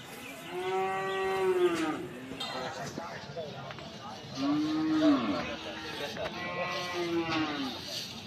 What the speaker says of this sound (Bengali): এই পাশে আরো কিছু গরু দেখা যাচ্ছে।